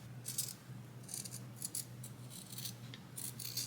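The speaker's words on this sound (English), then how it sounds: "Now I'm going to make a slit right in the middle of the zipper" Scissors snip a slit through fabric at a welt pocket and zipper, a quiet series of sharp, quick cuts in irregular bursts over a low steady hum.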